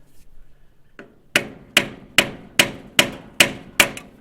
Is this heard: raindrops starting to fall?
no